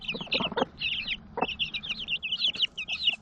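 Chickens and chicks cluck and peep in a busy chorus close by while eating duck egg yolk, with high chick cheeps over lower hen clucks and some pecking taps.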